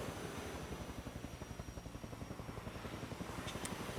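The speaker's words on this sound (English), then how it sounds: "Why am I hearing a helicopter?" A helicopter's rotor thuds in a steady rapid rhythm at low pitch, continuous and moderately loud throughout with no talking, like a distant aircraft passing overhead.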